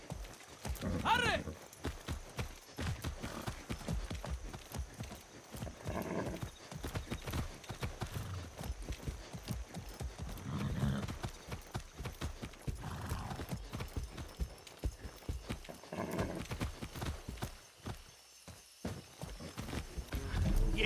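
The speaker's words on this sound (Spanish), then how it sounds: "¡Qué buen caballo!" Horse hooves in Far Cry 6 clip-clopping in a steady rhythm with a neigh near the start, while voices talk over the gameplay.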